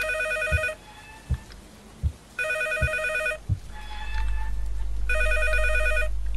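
An electronic telephone bell rings in repeated bursts of about a second, close and loud, with thuds and knocks in between and a low rumble building near the end.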